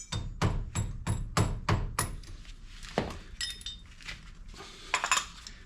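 A metal cotter pin is handled at a Lexus GX460 wheel hub during wheel bearing and seal work, giving a run of sharp, close metallic clinks and taps, quick and regular at first, then sparser.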